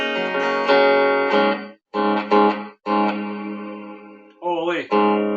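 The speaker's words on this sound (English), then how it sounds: "let's try some reverb" Guitar through an effects unit with reverb engaged, loud distorted chords in choppy bursts with brief gaps and a pitch-bending squeal near the end, no talk.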